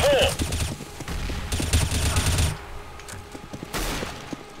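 Video game shooter gunfire from a silenced M4A1 rifle, with bursts of rapid muffled shots in clustered volleys, loud and close, mixed with game action noise.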